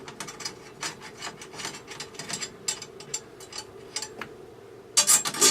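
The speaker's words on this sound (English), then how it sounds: "Tighten each one of these lugs by hand." Drum tension lugs being turned and tightened by hand, a series of close, dry ratcheting and threaded scraping clicks in irregular bursts, with a louder rattle near the end.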